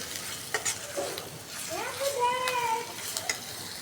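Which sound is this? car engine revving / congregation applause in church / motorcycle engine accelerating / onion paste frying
onion paste frying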